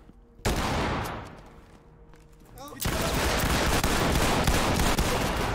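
A sharp gunshot followed by sustained rapid gunfire in Ready or Not, loud and close, the burst continuing steadily after a brief quieter lull.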